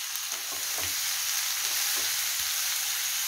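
Chopped vegetables for veg spring rolls cook lightly in a pan with a constant close hiss and sizzle, broken by a few soft stirring knocks.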